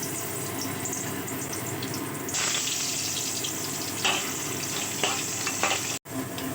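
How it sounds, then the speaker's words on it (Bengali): Potato pieces fry in hot oil in a kadai, a continuous close sizzle broken by a few scraping stirs, then a brief cutoff near the end. "এবার এই তেলে আমি আলুগুলো ভেজে নেব।"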